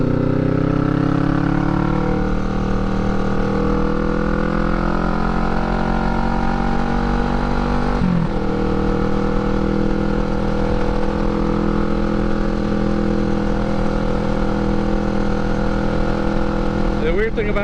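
A motorcycle engine drones loud and steady while the bike rides along a road, holding a constant pitch with a brief shift partway through and heavy wind rush underneath.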